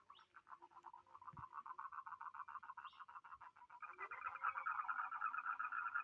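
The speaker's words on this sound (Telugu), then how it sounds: "కప్పలు అరుస్తున్నాయి బాగా" Frogs croak loudly and continuously near a pond of dark, blackish water under a tree, a dense pulsing chorus that swells louder toward the end with no talking.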